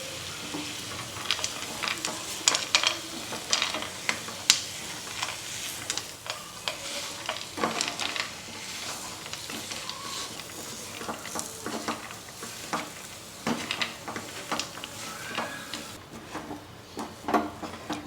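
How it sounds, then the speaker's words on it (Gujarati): Dates and dry fruits being stirred together in a hot pan for sugar-free dry fruit chikki, a continuous sizzle broken by repeated scraping strokes of the spoon, close and fairly loud with no talking. "હવે બધું જ મિક્સ કરી લઈએ ડ્રાયફ્રૂટ અને ખજૂર"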